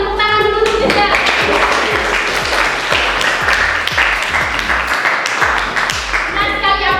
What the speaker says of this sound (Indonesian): Kita beri tepuk tangan dulu untuk Rizal.